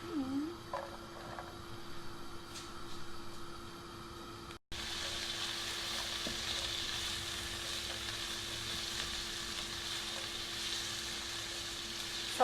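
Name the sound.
onions and garlic sautéing in olive oil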